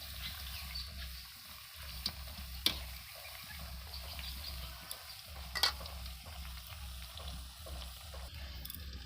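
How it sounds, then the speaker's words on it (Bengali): Steady sizzling of kohlrabi frying in a pan, with an occasional clink or stir, quiet and close, no voices. "এটা হচ্ছে ওলকপি ভাজা হচ্ছে"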